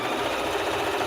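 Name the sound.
sewing machine sewing fabric strips together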